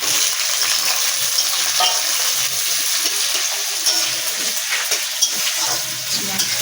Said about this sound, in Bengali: এর মধ্যে দেবো পেঁয়াজ কুচি